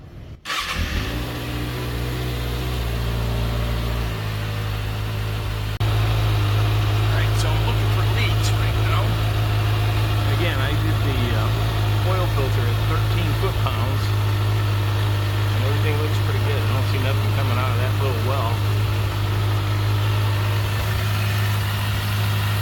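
A 2024 Kawasaki ZX6R 40th Anniversary Edition motorcycle, freshly given its first oil change, warms up at idle. A loud, close, steady engine drone holds throughout and steps up slightly in level partway through.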